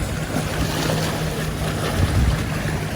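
Wind and passing boats stir up waves on a river, making a steady, close wash of lapping water with a gusty rush over it and no talking.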